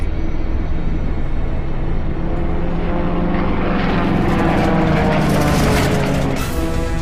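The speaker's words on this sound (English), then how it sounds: "The DFW's engine is hit hard. It drops out of the sky." A WWI DFW biplane with a badly hit engine falls from the sky, its propeller engine droning loudly and continuously, the pitch wavering and rising toward the end.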